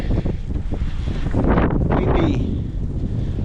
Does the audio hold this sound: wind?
yes